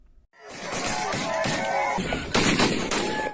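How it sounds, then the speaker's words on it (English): Dense, chaotic gunfire from an armed ambush crackles continuously, with sharp overlapping shots and louder bursts toward the end. "That's the sound of gunmen who massacred 60 people in an armed ambush."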